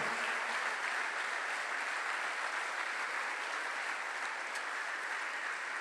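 A congregation at a 2014 church gathering applauds the Lord, a steady, dense wash of clapping that holds at full strength for several seconds with no voices over it.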